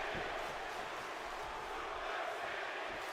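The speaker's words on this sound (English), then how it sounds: "you can hear the Suplex City chants ringing throughout the arena already" Massive arena crowd in WWE 2K17 roaring and chanting for Brock Lesnar's Suplex City, a dense, steady wash of voices filling the whole space without pause.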